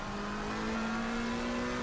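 McLaren race car cornering hard at Suzuka in a racing simulation, a steady, strained engine tone holding a sustained pitch for about two seconds, fairly close and heard without talk.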